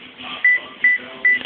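A phone's low battery warning sounds as three short, identical electronic beeps at a steady pace, loud and close, over faint background hiss.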